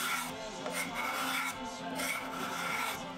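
Steel card scraper drawn across pine wood, a continuous close rasping scrape in repeated strokes with brief pauses between passes, alone without speech.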